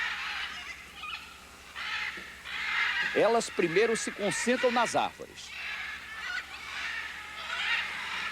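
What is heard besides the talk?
macaws (araras) calling as they arrive in the trees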